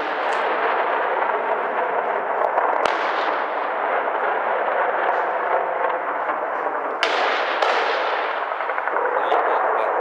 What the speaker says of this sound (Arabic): قصف عنيف يستهدف أحياء درعا البلد وسط اشتباكات بين أبطال الجيش الحر ومرتزقة الأسد